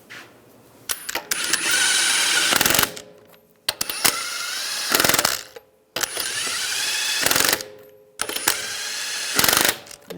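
Hand ratchet spinning lug nuts onto a Ram 1500 front wheel, rapid clicking runs in four bursts with brief pauses between, close and loud with no speech.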